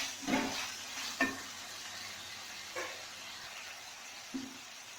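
Spring onions go into a hot pan for stir-frying while a chicken vegetable spaghetti is cooked: a quiet, steady sizzle with a few soft scraping stirs at intervals.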